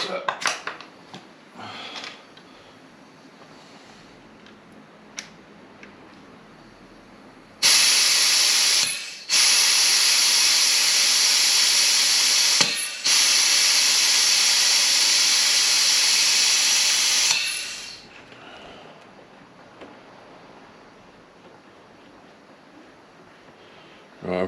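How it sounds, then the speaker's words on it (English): Steady loud hiss from an air compressor line hooked to a Ducati Monster S4 clutch master cylinder, starting abruptly, running about ten seconds with a short break, then cutting off, amid faint clinks and handling noises. "So I'm going to connect this to the compressor."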